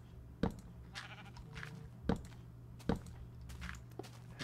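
Sheep in the block-building game Minecraft give a few short bleats between sharp thumping steps and light clicks, moderately close over a low constant hum, with no talking.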